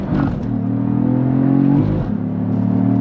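A 2022 Cadillac CT4-V Blackwing with a 6-speed manual revs hard and close, its pitch climbing steadily, briefly dipping at a gear change, then rising again.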